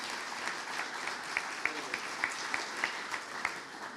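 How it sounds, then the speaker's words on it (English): Audience applause for presenters at an economic outlook event, a steady wash of many hands clapping at moderate distance, with a few sharper individual claps standing out over the four seconds. "How about another round of applause for all the presenters?"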